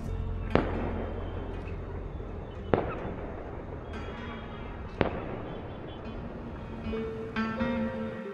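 Firecrackers burst at a hilltop fort after sunset, three sharp loud bangs spaced about two seconds apart, each with a short echoing tail over distant crowd murmur and faint tones.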